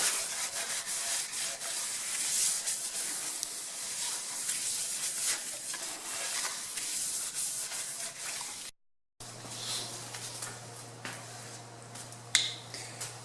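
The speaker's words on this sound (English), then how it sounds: "One last rubbing with a little WD-40." A rag with a little WD-40 rubs the cylinder bores of a Dodge Viper V-10 engine during an engine build: close, scratchy rubbing strokes, a brief silent break, then more rubbing with a low hum.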